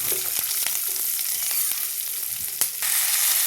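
Black urad dal and a small piece of tamarind sauté in a pan for drumstick-leaf thuvayal, producing a constant close, crackling sizzle with occasional stirring clicks.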